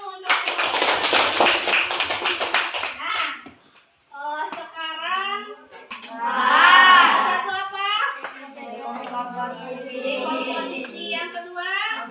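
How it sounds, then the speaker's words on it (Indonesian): Classroom audience clapping hands during a lesson on coding and computational thinking, a dense burst of claps for about three seconds, followed by speech and children's voices. "Tepuk tangan dulu"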